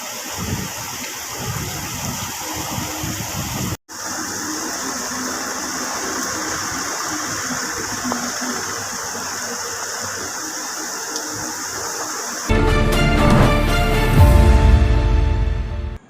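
Heavy summer rain pours down as flood water rushes along, a dense, steady roar that holds throughout, briefly cuts out, then swells louder and harsher near the end.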